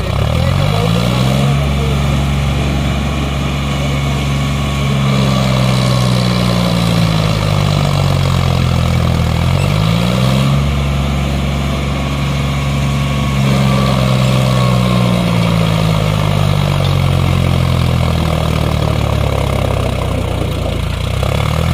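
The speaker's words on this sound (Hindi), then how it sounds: "ट्रैक्टर खिंचाई अच्छी कर रहा है।" A heavy Mahindra 585 Di XP Plus tractor engine labors steadily under load at full power, its pitch rising and falling in long swells, loud and close throughout.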